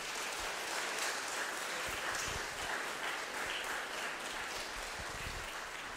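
An audience at a year-end music school concert in Jūrmala breaks into sustained, even applause, a soft continuous wash of clapping heard from within the hall.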